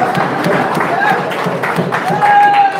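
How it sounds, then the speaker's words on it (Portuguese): A church congregation claps and cheers together in steady, dense applause, with voices calling out over it throughout. "Vamos dar um lindo aplauso"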